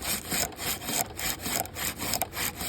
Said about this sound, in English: Got a piece of sandpaper.